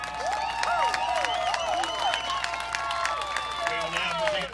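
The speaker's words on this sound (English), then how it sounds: "Will you join me in a big round of applause for Midland, the 2018 Dixie Youth AAA World Series champions?" A crowd at the Dixie Youth AAA World Series baseball championship ceremony claps and cheers for the winning youth team in sustained applause, with an announcer's voice echoing over a public address system.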